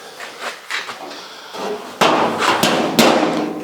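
Hammer blows on sheet metal, shaping a gas door opening on a classic AWD 1974 Dodge Charger; a handful of sharp, loud metallic strikes in an irregular rhythm, louder in the second half, with no speech.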